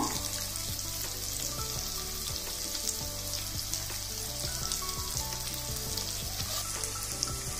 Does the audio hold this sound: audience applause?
no